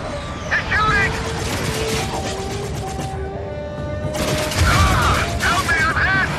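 Enemy gunfire in the Dark Void video game, a dense, continuous burst of rapid shots and mechanical clatter under loud voices, with a short lull before the firing swells again.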